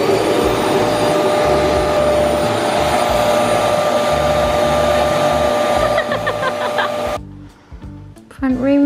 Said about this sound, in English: and now look at the hoover when I turn it on.